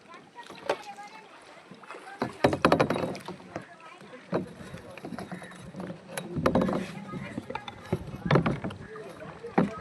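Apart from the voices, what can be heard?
kayak paddling through mangrove forest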